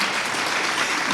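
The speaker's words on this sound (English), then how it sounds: "I think that's worthy of a hand clap." A short, loud burst of audience applause at a local community gathering marking Transit Equity Day in honor of Rosa Parks, a dense clapping wash with no talking.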